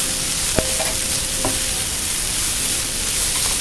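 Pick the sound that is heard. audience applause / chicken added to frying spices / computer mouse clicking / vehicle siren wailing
chicken added to frying spices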